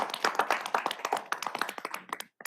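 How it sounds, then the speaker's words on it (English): A round of applause from a small crowd at a harbor commission meeting, a steady patter of individual claps that thins out and stops near the end, with no talking over it. "So I'd like to actually give a big round of applause to Harbor Master Mahoney"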